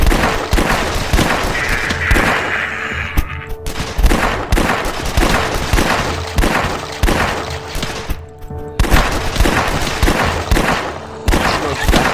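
Rapid gunfire from the video game The Last Stand 2, dense overlapping shots and bursts filling the whole stretch with a loud, busy crackle, broken by a couple of brief lulls, with no voices over it.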